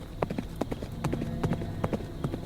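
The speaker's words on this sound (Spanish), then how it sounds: "el caballo del cocinero aprovechó un descuido para huir galopando hasta perderse en el silencio" A horse's hooves clip-clop in a quick, uneven rhythm of sharp knocks, fairly close and distinct, over a low murmur that may hold faint speech.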